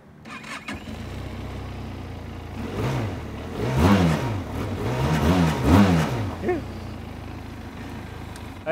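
A 2022 Benelli TRK 502 LE motorcycle starts up and its engine is blipped several times, rising and falling revs in quick bursts close by, then settling back to a steady idle.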